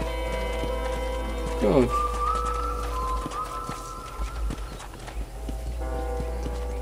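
Horse hooves clip-clop in Red Dead Redemption 2 as the horse is ridden, a steady light patter under game music, with someone speaking briefly.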